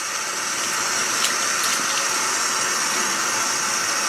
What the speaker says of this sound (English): After 5 minutes, I rinse it out.